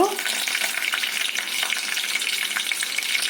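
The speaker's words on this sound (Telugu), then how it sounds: "ఆయిల్ వేడయ్యాక ఎండుమిరపకాయలు పోపు కోసం కరివేపాకు" Loud, dense crackling sizzle of dried chillies and curry leaves in hot oil, continuous throughout with sharp spattering pops.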